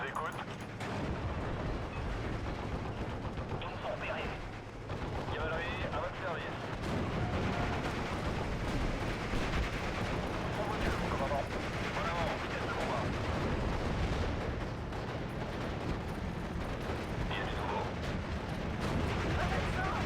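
Tank cannons and artillery in the WWII Normandy battle game Steel Division: Normandy 44 keep up a dense, continuous barrage of booming shots and rumbling blasts. Repeated heavy bursts land over a constant low battlefield din.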